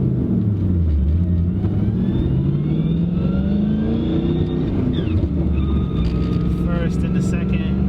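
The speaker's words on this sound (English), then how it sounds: "So we're at a light and I'm gonna get rolling, get through first gear and then go into second" 2011 Mustang GT with On3 twin turbos on Airlift suspension pulling away from a light and accelerating through first into second gear, engine pitch rising then dropping at the shift, loud and close inside the car.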